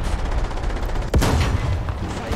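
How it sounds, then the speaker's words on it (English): Gunfire in a tank video game featuring the Panther II, a rapid rattle of shots followed by one sharp heavy impact that booms loudly, then fades into rumbling noise. "Someone's shooting at us."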